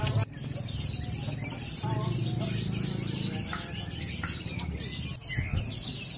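Lovebirds sing at an Indonesian bird-song contest field, with rapid chirping trills over a dense crowd and background din and a voice speaking faintly underneath.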